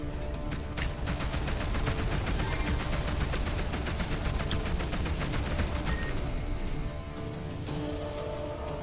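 Spaceship weapons in the space combat game Between The Stars fire in a dense, continuous rapid barrage against an enemy warship, loud and close, with the volley thinning slightly toward the end.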